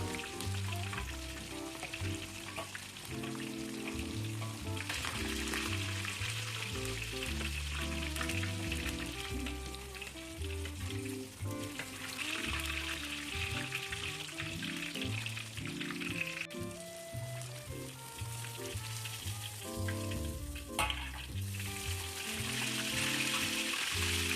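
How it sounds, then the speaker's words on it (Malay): Sea bass (siakap) sizzles and crackles steadily as it deep-fries in hot oil until crisp, a dense bubbling hiss with occasional pops, continuous throughout, with a faint low hum underneath. "Goreng ikan ni sampai dia garing."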